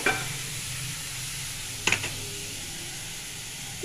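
Chhana (cottage cheese) being stirred in a pan while cooking, a soft low frying sizzle with a brief clatter of the spoon midway, quiet and close with no one speaking.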